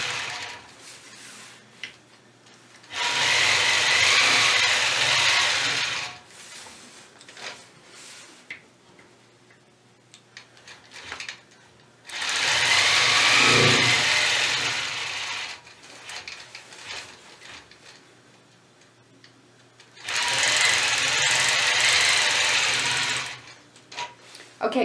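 A quilting machine stitching point-to-point curves on a square quilt block runs in three separate bursts of rapid, even mechanical chatter, each a few seconds long, with quiet pauses and faint movement between them.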